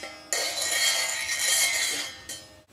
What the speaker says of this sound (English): Maybe a bit of metal on metal.